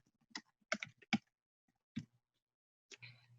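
A few soft keystrokes typed on a computer keyboard into a search bar, isolated clicks in small clusters with quiet gaps between them, close and faint.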